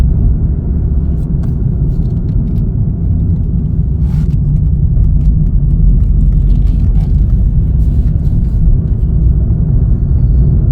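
Chevrolet Cruze LT driving along, its steady, loud low rumble of engine and road noise unbroken throughout, heard from inside the car with no talking.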